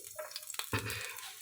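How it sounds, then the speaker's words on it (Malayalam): Coconut oil heating in a pan on the stove gives a faint, soft sizzle, with a short scrape or stir partway through, all quiet and close. "വെളിച്ചെണ്ണ അടുപ്പത്ത് വെച്ചു."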